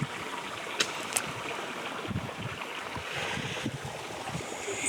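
Irrigation water runs through a channel in a sugarcane field, a steady wash of broadband flowing noise with faint gurgles, continuous and moderately close, with a couple of brief sharp clicks.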